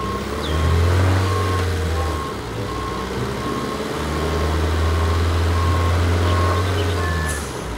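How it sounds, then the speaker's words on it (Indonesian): A toy cement mixer truck with a spinning drum runs with a loud, steady motorized hum that drops out briefly midway, while a repeating electronic beep sounds at an even pace throughout. "Ini adalah truk molen."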